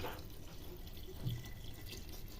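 Water runs into a pot of rice and lentils for vegetable khichuri, a soft and fairly distant steady trickle and splash that stays level throughout with no talking.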